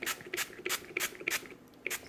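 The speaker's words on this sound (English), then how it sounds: "Now I'm just putting some spray butter on it." Quick, soft hissing bursts of I Can't Believe It's Not Butter spray onto popcorn, about eight short pumps in an uneven rhythm, close and fairly quiet.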